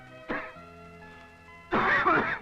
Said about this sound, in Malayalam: ഈ ചുമ അത്ര ശരിയല്ല.